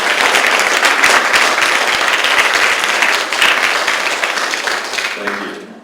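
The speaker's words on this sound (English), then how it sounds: "just a big round of applause for Bill Nelson" A conference audience at a 2011 world congress gives a loud, sustained round of applause, dense clapping that holds steady, then thins and fades out near the end.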